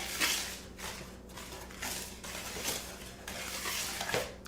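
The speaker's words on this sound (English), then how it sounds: "we're just gonna kind of mix those dry ingredients together" Dry cake ingredients, including flour and salt, mixed in a bowl with a utensil, soft repeated scraping and swishing strokes, faint and close.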